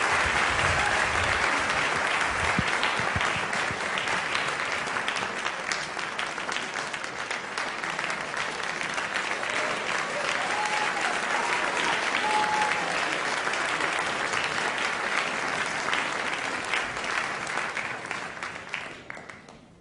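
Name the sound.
audience applause welcoming scientists to the stage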